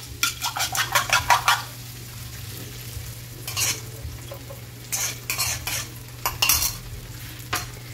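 Plenty of eggs stirred in a frying pan, with a quick run of rhythmic scraping strokes, then scattered clinks and scrapes of utensil on metal over a low steady sizzle.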